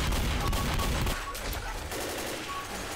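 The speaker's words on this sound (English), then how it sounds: "so I think I'm shooting stuff." Gunfire in the zombie shooter Left 4 Dead, with dense rapid shots forming a loud continuous burst for about a second, then quieter scattered shooting and game noise.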